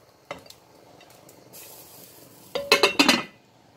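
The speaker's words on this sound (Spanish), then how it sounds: "Lo mezclamos, vaya." A spoon clinks and scrapes inside a pot of Cuban white bean stew, a few light taps early on and then a burst of loud, rapid metallic stirring strokes near the end.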